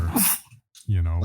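A single sharp sneeze from a person during a casual podcast conversation, a short burst followed by a pause and then a voice resuming close by.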